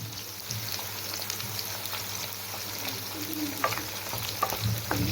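Onions for Egyptian koshari frying in hot oil, a continuous bright sizzle with occasional stirring clatters and scrapes, growing a bit busier near the end.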